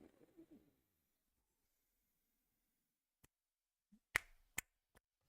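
A few sharp finger snaps, isolated and fairly close in a quiet room, coming after a brief burst of speech.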